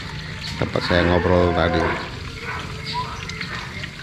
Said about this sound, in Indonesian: Itu suara sapinya seperti itu.